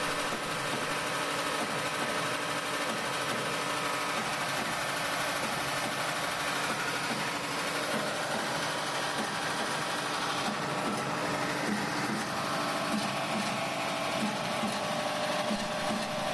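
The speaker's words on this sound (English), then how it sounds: "This 25-inch Ramco belt sander is equipped with electric eye tracking" A 25-inch Ramco dry belt grinder sander, equipped with electric-eye belt tracking, runs steadily with a continuous, fairly loud mechanical hum and broadband whir, unbroken and without speech throughout.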